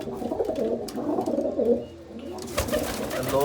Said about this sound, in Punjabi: ਇਹ ਤਾਂ ਕਬੂਤਰੀ ਆ